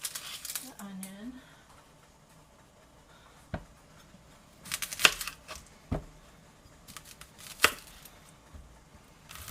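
Onion chopped on a cutting board in a home kitchen, a few sparse sharp knife knocks spaced by quiet gaps, with a brief voice at the start.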